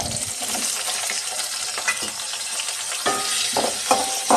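Chopped onions fry lightly in a pan after cracked green and black cardamom, stirred steadily for a chicken and cauliflower curry: a dense, continuous close sizzle with scraping stirs and occasional clinks, and no talking.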